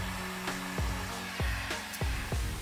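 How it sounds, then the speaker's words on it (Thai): Heat gun blowing hot air steadily onto an old paint bucket, a continuous airy whoosh with a low hum, broken by several sharp knocks or bumps at irregular intervals. "เดี๋ยวผมจะลองใช้ไดร้อนเป่าช่วยนะครับ"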